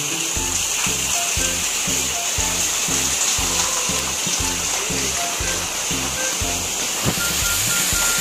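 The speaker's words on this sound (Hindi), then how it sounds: "पहाड़ों के बीचों बीच में से पानी आ रहा, कुदरती पानी" Natural stream water rushing down between mountains in a forested area, a loud, constant broadband roar of flowing water filling the whole stretch, with a steady pulsing low rumble beneath it.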